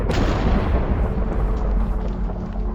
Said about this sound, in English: I wonder if people can hear all the thunder going on right now